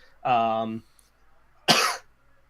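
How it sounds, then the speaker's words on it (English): A real cough during a live-streamed chat show, heard close to the microphone. A short voiced burst is followed after a pause by a second sharp, noisy cough, with near silence around them. "That was a real cough, not like a fake cough."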